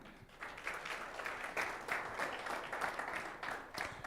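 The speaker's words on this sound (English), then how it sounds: "A round of applause for Fadila" A conference audience at a research and innovation session applauds as a European Commission speaker takes the podium, a steady, moderately loud wash of clapping that holds for about four seconds.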